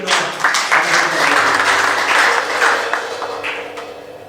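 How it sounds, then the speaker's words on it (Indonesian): A church congregation at a Sunday worship service claps together in a loud, warm burst of applause that swells and then gradually tapers off, with faint voices underneath. "berikan tepuk tangan dulu Bu Yeti."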